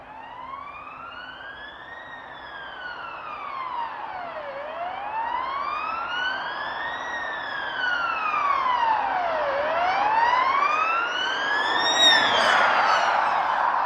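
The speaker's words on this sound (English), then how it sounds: "Ambulance sirens blares, and there's general confusion." Ambulance sirens blare loud and close in a wailing pattern that sweeps slowly up and down, overlapping toward the end with no talk.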